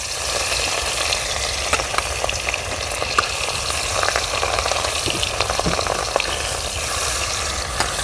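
Pieces of rohu fish sizzle loudly in hot mustard oil, a dense and constant crackling hiss with tiny spitting pops that carries on without a break.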